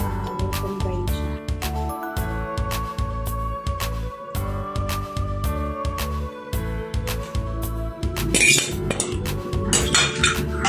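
Pork being stirred into a creamy mushroom sauce in a pan, a busy run of metallic clinks and scraping taps from a utensil against the pan, close and fairly loud, with brighter rattling near the end.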